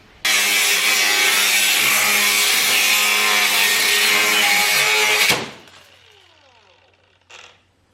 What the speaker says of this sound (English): So as you could see in that clip, that cutting disc exploded.